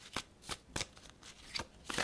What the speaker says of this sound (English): Flip a couple of cards.